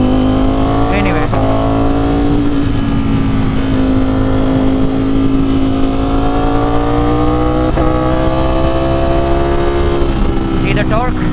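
A Ducati Streetfighter hyper-naked motorcycle engine revs loudly as the rider accelerates on the road, rising through several gear changes with brief dips between pulls, close and continuous over wind noise.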